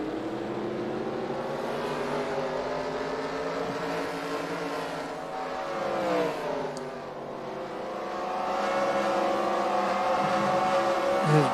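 Dirt track race cars at Devils Bowl in Texas during a feature race, engines roaring and revving in layered, droning tones as the pack circles, with a dip in the middle before the din builds again, loud and continuous.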